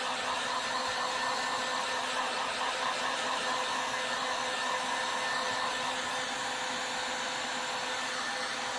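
Hair dryer running on low setting over styrofoam eggs, a continuous steady whooshing fan hum with no breaks, moderately quiet and close, heard alone.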